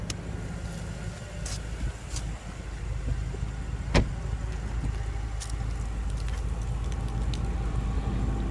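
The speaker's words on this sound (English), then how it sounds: "Now let's pop the trunk and see how much cargo space the trunk offers." Trunk of a 2015/2016 BMW M6 Gran Coupe pops open with a single sharp latch click amid a steady low car hum, followed by soft mechanical movement, no talking.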